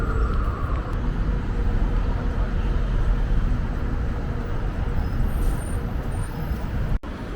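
A tour bus rolls past in busy street traffic in Tbilisi, Georgia, a loud, close, steady engine and road rumble with a short sharp hiss near the end.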